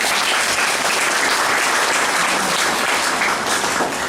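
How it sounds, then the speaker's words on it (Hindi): Loud, dense applause fills a hall at a direct-selling motivational program, many hands clapping continuously and energetically throughout with no pauses. "ताली बजाना है तो जोश से बजाना है।"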